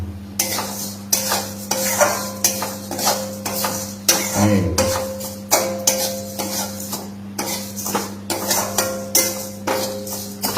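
Maggi noodles with red chili powder being stirred in a metal pan, a regular run of sharp scraping and clinking strokes over a low frying sizzle and steady hum, close and fairly loud.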